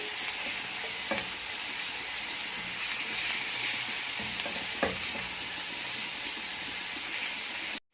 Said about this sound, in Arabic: معانا بقى معلقه توم مفرومه، وهنا قرن فلفل رومي متقطع صغير. ممكن هنديلهم بقى تشويحه كده